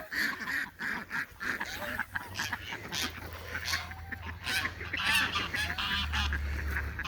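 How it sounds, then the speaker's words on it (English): Geese honking repeatedly in a mixed flock with ducks, clustered calls rising and falling at close range as the birds follow along on foot, with other fowl sounds mixed in. "The geese will follow us in a minute."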